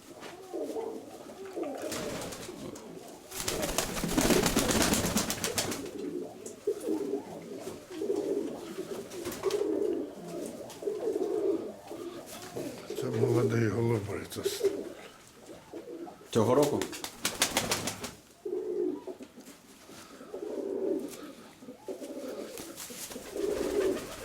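Fancy pigeons coo in low, rolling bursts that repeat throughout, near and fairly clear, with wingbeats and other background noise mixed in.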